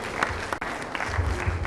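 Applause at the 40th MTN-SWAG Awards ceremony as the co-MC is welcomed, a moderate round of crowd clapping heavy with hall reverberation, with a few sharper claps and a brief dip partway through.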